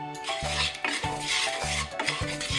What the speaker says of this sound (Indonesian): Ini kita aduk sampai gula merahnya ini mencair.